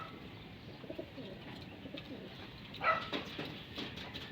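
A racing pigeon arriving at its loft coos softly several times, with a brief flurry of wing flaps in the middle; quiet and fairly close.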